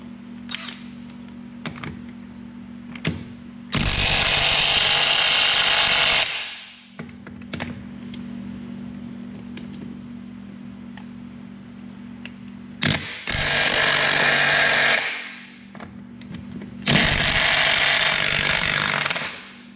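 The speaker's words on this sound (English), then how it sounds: "pulling these wheels off just takes a 17mm socket" Kawasaki Mule wheel nuts being spun off with a 17mm socket on an impact gun, three loud sustained buzzing bursts separated by quieter workshop background with a steady low hum and occasional clicks.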